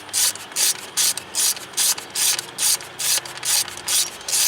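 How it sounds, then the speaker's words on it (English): Ratchet snugging intake manifold bolts on a 2013 Ford Explorer 3.5 during a spark plug change, heard as about ten evenly spaced bursts of rapid clicking, close and fairly clear with no talk. "And then just snug these bolts back down."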